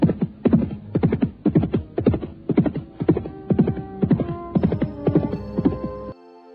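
A horse's hooves clop in a steady, rhythmic trot as a rider heads home, each footfall crisp and close, about a dozen beats before stopping abruptly.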